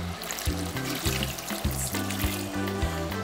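Water splashes and sizzles into a hot pan, a continuous hissing pour with bubbling underneath, fairly close and steady.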